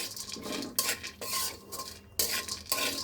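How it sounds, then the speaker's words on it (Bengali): Cashews, raisins, pistachios and almonds fry in ghee in a pan while a spoon stirs them, giving repeated scraping strokes over a soft sizzle, fairly quiet and near, with no voices. "এবার এই বাদামগুলো আমি সুন্দর করে ভেজে নিব।"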